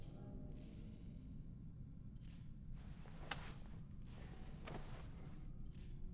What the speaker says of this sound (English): That's him spinning his revolver.